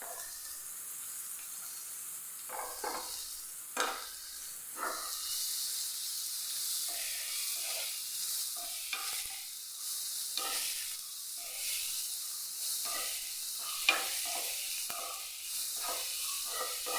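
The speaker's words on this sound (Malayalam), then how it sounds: "ഒന്ന് മൊരിഞ്ഞ് വരുമ്പോൾ നമുക്കിതിലേക്ക് നമ്മൾ അരിഞ്ഞെടുത്ത നമ്മുടെ ഉള്ളി ചേർത്ത് കൊടുക്കാം." Chopped onions added to hot oil in a frying pan, a continuous bright sizzle with repeated scraping and stirring clatters of a spoon throughout, no talking.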